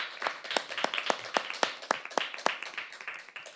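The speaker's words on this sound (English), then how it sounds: "Ladies and gentlemen, a round of applause for our judges." A debate audience applauds the judges at a semifinal debate, a small group clapping in a quick, fairly even rhythm of distinct claps, sparse and not very loud.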